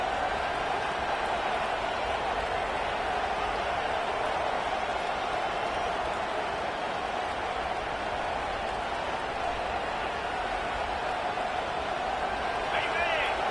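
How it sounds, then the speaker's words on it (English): A packed American football stadium crowd roars steadily and loudly throughout, a dense unbroken wall of cheering and noise rising as the home fans try to rattle the offense. "It is getting loud as this crowd tries to help its defense"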